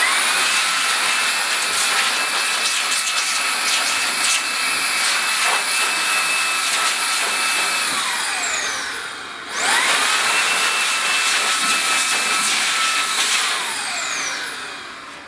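A Makita DAS180 cordless dust blower fitted with a small tip blows a loud, steady high-pitched rush of air, spinning down briefly near the middle and then revving back up.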